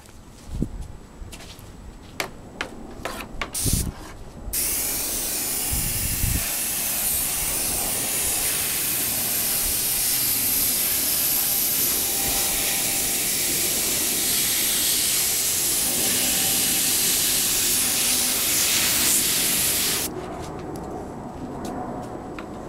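Aerosol spray paint applied to motorcycle wheel accent stripes in long continuous hissing passes of about fifteen seconds, preceded by short bursts and clicks, close and loud with no talking.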